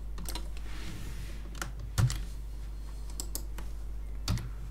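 Sparse keyboard clicks from shortcut presses in 3D modelling software, a few isolated taps with two slightly louder key strikes, close and alone over a steady low hum.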